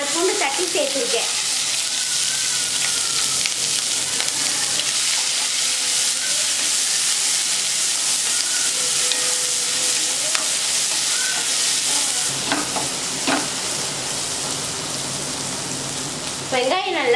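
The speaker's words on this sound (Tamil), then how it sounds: "இதெல்லாம் போட்டு தாளிச்சுட்டு பெரிய வெங்காயம், வரமிளகாய் ஒரு அஞ்சு ஆறு எடுத்திருக்கேன், பூண்டு ஒரு நாலு பூண்டு தட்டி சேர்த்துருக்கேன்" Onion, dried red chillies and crushed garlic frying in a tempering for a home-cooked dish, giving a continuous loud sizzle with occasional stirring scrapes and faint speech under it.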